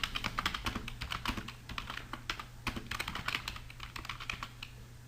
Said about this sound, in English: So I begin typing.